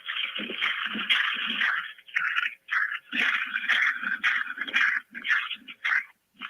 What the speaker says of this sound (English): He's walking his dog, Sage.